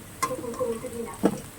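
Potatoes frying in oil in a wok as they are scooped out for chorchori with shrimp, a steady soft sizzle with a light scrape near the start and a louder clatter of the spatula toward the end.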